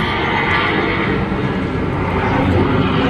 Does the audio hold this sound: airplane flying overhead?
yes